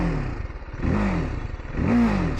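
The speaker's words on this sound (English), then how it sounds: "this bike is unnecessarily loud" A TVS Apache RTR 310 motorcycle engine starts and runs loudly close by, its steady rumble swelling in two revs with rising whine, with no talking over it.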